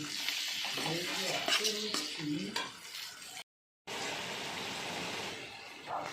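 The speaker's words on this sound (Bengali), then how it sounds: "মশলাটা এবার আমি কষিয়ে নিচ্ছি" Ground spice paste with a little turmeric being fried and stirred in a small wok for a chicken dish, steady close sizzling with scraping strokes of a spatula, briefly cut to silence before the sizzle resumes.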